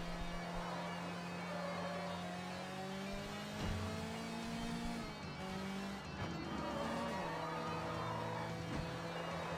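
Car engine while driving in the video game Sleeping Dogs, a steady droning motor with rising and falling revs through gear shifts, accompanied by brief tire squeals, fairly faint and continuous without talking.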